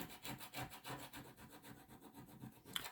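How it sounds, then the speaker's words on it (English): A tool scrapes chalk paste off a reusable coaster in quick, even back-and-forth rubbing strokes. The sound is faint and close, with no talking. "And you just do the same thing. Just scrape it."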